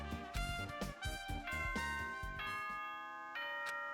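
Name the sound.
announcement chime from the video game Danganronpa 2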